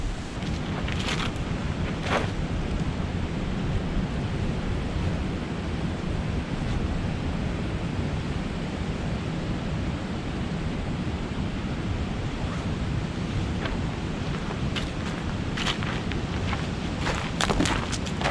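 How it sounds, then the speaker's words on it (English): Steady wind rushes and buffets the microphone outdoors near a river at Dolliver State Park in north central Iowa in late November, a continuous broadband roar with a few sharper gusts and no talking. "It feels cold, and it feels warm, and cold, and the wind comes up, then it comes down"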